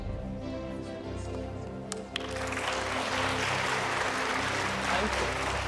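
Applause at a presidential running-mates debate, beginning amid steady background hum and swelling after about two seconds into a dense, sustained wash of clapping from a sizeable audience.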